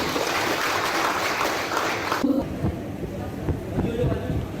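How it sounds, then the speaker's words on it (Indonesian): An audience at an agricultural extension gathering in Riau gives a loud burst of applause that cuts off abruptly halfway through, followed by someone talking. "Tepuk tangan untuk kita semuanya."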